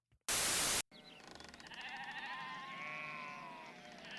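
Two sheep bleat inside a barn in a run of wavering, drawn-out calls. The bleats follow a short burst of loud noise at the start and stand alone with no talking.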